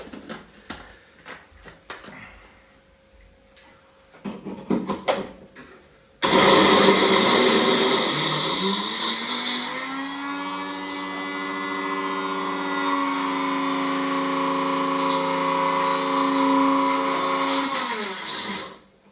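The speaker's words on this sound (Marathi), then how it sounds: "सोयाबीन मधलं सगळं पाणी काढायचं आणि मग मिक्सर मध्ये ग्राइंड करायचं" Soaked soybeans being ground in a kitchen mixer grinder. A loud, steady whirring motor roar starts abruptly after some quieter handling clatter, rises slightly in pitch, and runs continuously for over ten seconds before cutting off.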